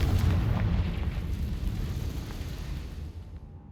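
In the video game Hogwarts Legacy, a Confringo fire-blast spell bursts with a loud, close boom that rolls off into a fading rumble and then dies away to quiet.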